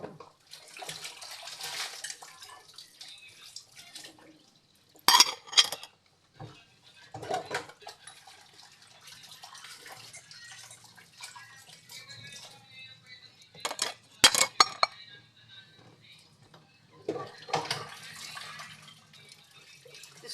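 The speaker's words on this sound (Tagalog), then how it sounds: "magbabanlaw na ako ng plato" Plates rinsed under running water from a tap, intermittent splashing and gushing with occasional clinks of dishes, fairly faint and close, with quiet stretches between bursts.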